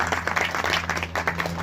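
An audience at a Shani Dham Delhi gathering claps for a young girl named Vaishnavi, a short burst of dense, lively applause from a nearby crowd.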